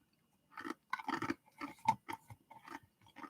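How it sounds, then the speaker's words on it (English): Crunchy chewing close to the microphone comes in several bursts of bites and crunches with short pauses between them, alone and fairly clear. "Can you hear the crunch?"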